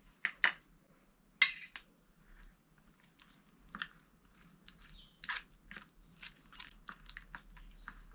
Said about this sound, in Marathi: आनी सगळी बेसन तांदळाचें पीठ बी बरें मिक्स करून घ्या.